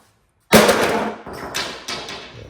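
A single hard metallic strike on a John Deere LA135 lawn tractor mower blade, a loud close ringing impact that decays slowly with faint reverberation.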